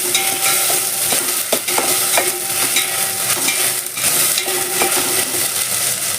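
Fenugreek leaves fry in a pan while being stirred, brisk scraping strokes and occasional metallic clinks riding over a loud, constant sizzle, close up with no voices.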